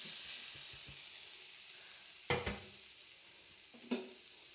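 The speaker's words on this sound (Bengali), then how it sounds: "এবার আমি কড়াইতে নারকেলটা দিয়ে দেব" Grated coconut frying in a wok for coconut sweets, a soft steady sizzle with a few sharp knocks of a spatula against the pan, close and alone.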